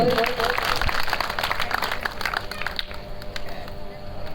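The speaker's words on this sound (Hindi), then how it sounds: "जोरदार ताली बजा करके स्वागत करें भाई" An audience at a BJP party workers' gathering in Indore claps to welcome a Lok Sabha candidate, a lively burst of applause that thins out and fades toward the end.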